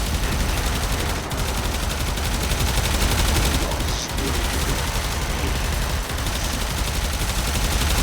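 Sustained, dense automatic gunfire pours out during a fight in the video game Warframe, loud and continuous across the whole stretch.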